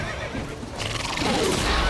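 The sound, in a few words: horse neighing in video game The Witcher 3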